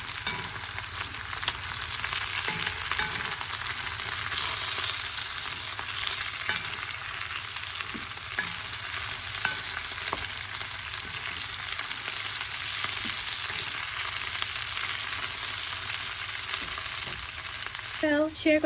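Beans, carrots and cabbage sautéing in a pan for miki bihon, a continuous close sizzle with intermittent soft stirring scrapes running steadily throughout.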